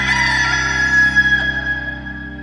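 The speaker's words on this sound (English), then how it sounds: "Just then, a rooster crowed." A rooster crows loudly and close, one long drawn-out call with a sustained tonal cry that tapers off over a couple of seconds.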